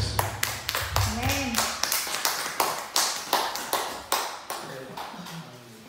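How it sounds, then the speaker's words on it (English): A church congregation claps in a steady, even rhythm, one crisp beat roughly every third of a second, while a voice speaks and sings over the clapping throughout. "A big hand of applause unto Jesus."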